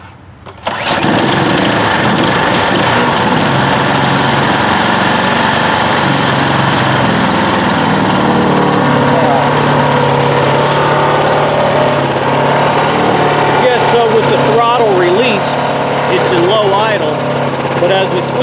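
A DR Power Wagon dump cart's small engine starts after a brief crank and settles into a loud, steady, buzzing run that continues close by, with a voice talking over it.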